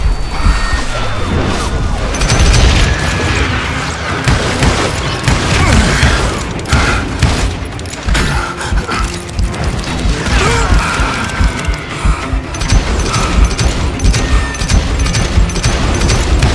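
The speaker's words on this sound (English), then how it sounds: "I saw Henry Plummer throw dynamite at me" Dynamite explosions in the video game Call of Juarez: Gunslinger, loud booms and crashing debris that follow one another over a long stretch, mixed with clattering impacts and bursts of gunfire.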